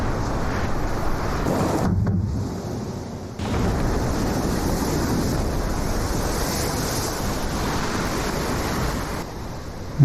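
Ocean waves and surf in a film scene, a continuous loud roar of breaking water and wind, briefly dropping out at a cut around two seconds, then rushing on steadily to the end.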